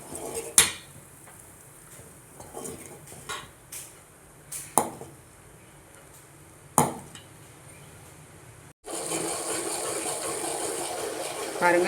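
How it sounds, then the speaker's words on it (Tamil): A spoon stirs cream in a pan over a low flame while homemade cow's ghee cooks, making scattered metallic clinks and scrapes against the pan, followed by a sudden steady, louder hissing wash near the end. "நீங்கள் கிண்டுறதை விட்டுறக்கூடாது, இப்படி கிண்டி கொடுத்துக்கிட்டே இருக்கணும்."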